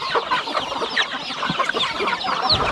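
A large flock of backyard chickens clucks and chatters continuously nearby, with overlapping calls and sharp squawks and no voices.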